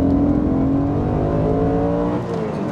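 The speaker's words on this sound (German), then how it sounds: "ich gehe jetzt mal ein paar Gänge runter. Und dann drehen wir mal hoch." An Audi RS4 B7 saloon accelerates hard after a downshift, its engine note climbing steadily in a loud rising howl heard from inside the car, with a brief dip near the end as it shifts.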